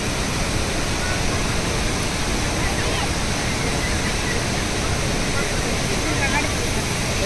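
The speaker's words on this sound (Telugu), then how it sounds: "ఫైనల్లీ ఆఫ్టర్ చాలా టైం నడిచిన తర్వాత వాటర్ ఫాల్ దగ్గరికి అయితే వచ్చేసాం" A loud Kerala waterfall pours in a steady, dense, unbroken roar that stays close and even throughout, with no pauses or changes in intensity.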